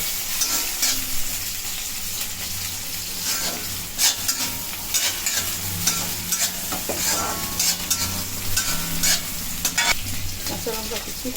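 Chopped onions sizzle and fry in a pan for a cauliflower bharta, a steady crackling hiss broken by repeated sharp scrapes and knocks of a spatula stirring against the metal.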